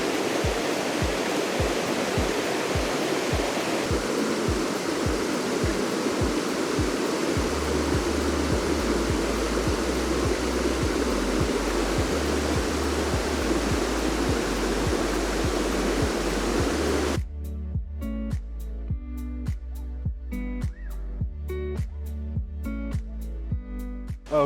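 Carpenter Falls, a double waterfall, roars as a steady broadband rush of falling water that holds for most of the stretch before music takes over near the end.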